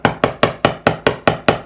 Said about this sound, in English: I'm going to just rotate and hammer it, especially up in the top portion where it's annealed.